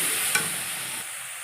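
Ginger paste sautés in a pan, a close, even sizzle with one brief scrape of a stirring utensil early on, then the frying hiss continues alone.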